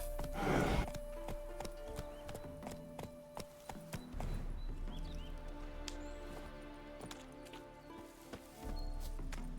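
Roach, a horse in The Witcher 3 video game, clip-clops with hoof steps and lets out a whinny, a loud burst near the start followed by steady hoof falls over low game ambience.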